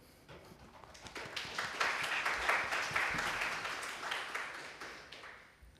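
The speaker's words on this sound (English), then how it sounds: "Please welcome Tushar with applause." A conference audience at PyCon JP 2024 claps to welcome a speaker. The applause swells from quiet scattered claps to a full round, then tapers off gradually.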